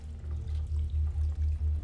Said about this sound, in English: What's all the water?